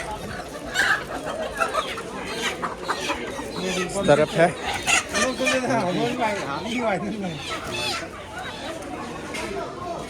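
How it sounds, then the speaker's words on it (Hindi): Local chickens cluck and squawk close by amid busy chatter at a weekly goat market in Karbi Anglong, India, with someone briefly speaking over the birds. "ये सब लोकल मुर्गी है दोस्तों।"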